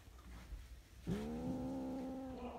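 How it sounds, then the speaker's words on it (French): A pet cat lets out a single drawn-out, wavering meow after a second of quiet, faint and somewhat distant in a calm room. "T'as-tu un animal de compagnie? Ouais, j'ai un chat."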